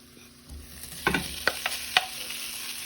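Shrimp go into a hot pan for fried rice, raising a close sizzle that swells after a moment, with a few sharp scraping stirs and clinks over the frying hiss.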